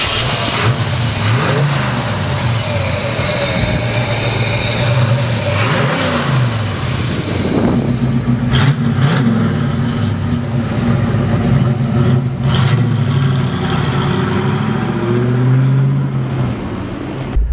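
The big block engine of a 1967 Chevy Chevelle SS convertible revs loud and close in repeated throttle blips, rising and falling over a rumbling idle.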